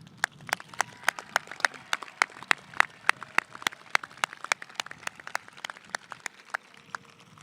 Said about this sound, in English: let's all celebrate the success of all the members and all the community around us with a round of applause